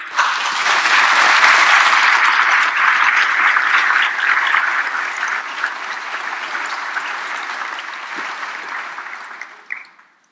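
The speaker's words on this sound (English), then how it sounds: "can we give them a round of applause?" A large crowd at a college presidential inauguration ceremony applauds loudly and continuously for about ten seconds, slowly thinning before a final clap and a quick fade.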